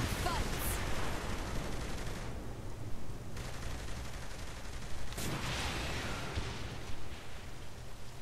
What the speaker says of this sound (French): On lance le lance-roquette.